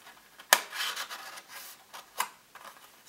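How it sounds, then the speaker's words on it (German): A strip of paper slides through a slot in a handmade window slider card, making soft rubbing and rasping scrapes with a sharp tick at the start, close and quiet, with no talk. "Und das andere fädelt man hier einfach so durch."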